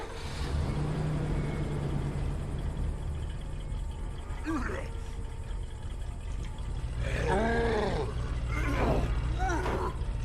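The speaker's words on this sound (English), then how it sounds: "I'm just going to hop back in my truck" Truck engine in a video game, a continuous low droning roar with a few rising rev swells, and someone talking over it.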